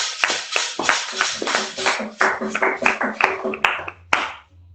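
A church congregation clapping in praise, with brisk rhythmic handclaps mixed with a few voices and a faint sustained tone, close and lively, ending in a couple of final claps.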